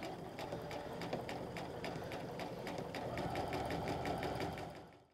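A sewing machine runs steadily, stitching fabric for pull-on pants with a fast, even rattle of needle strokes, close and fairly quiet, trailing off as it stops.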